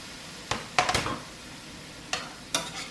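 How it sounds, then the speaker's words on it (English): Chopped potatoes with skins on tossed into a hot soup pot, a few scattered thuds and short scraping clatters over a faint background hiss, no speech. "I'm going to throw in some potatoes."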